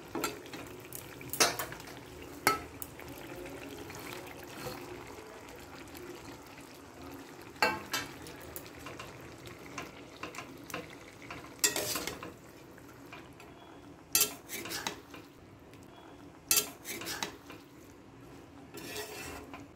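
Fish roe fries quietly in a pan, a faint steady sizzle broken by sharp clinks and scrapes of a utensil against the pan, with no talk.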